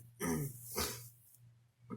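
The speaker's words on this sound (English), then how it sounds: "Apologies if I'm clearing my throat a lot." A single person clears their throat, a rough rasping burst followed by a short second rumble, close and fairly quiet.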